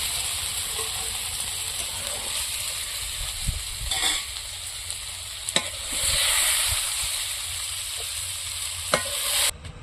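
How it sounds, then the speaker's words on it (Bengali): Eggplant fries in oil with salt and turmeric, a close, steady sizzle and hiss that keeps going throughout, broken by a few brief scrapes and knocks of stirring. "ভাজার সময় একটু লবণ আর হলুদ দিয়ে আমি বেগুনটা একদম লাল লাল করে সুন্দর করে ভেজে নেব"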